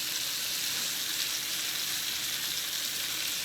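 Salmon and tomatoes sizzling steadily in a hot skillet, a continuous close crackling fry with no pauses and no voices.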